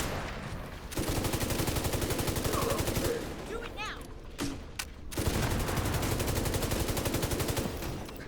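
Sustained automatic gunfire from a first-person shooter rattles in dense, fast bursts, stopping briefly around the middle before resuming, loud and close, with a voice talking underneath.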